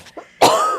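Brief throat clearing followed by a single loud, close cough from podcast hosts in a quiet room, both isolated with no talk.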